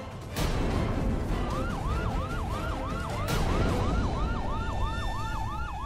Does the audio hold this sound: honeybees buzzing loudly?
no